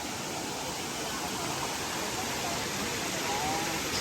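River and waterfall at Aliw Falls rush in a constant broadband hiss, steady and fairly soft, with no distinct voices over it.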